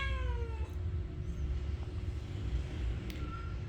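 A grumpy cat gives a short descending meow at the start, followed by low steady background noise and a few faint brief chirps or squeaks; no talking.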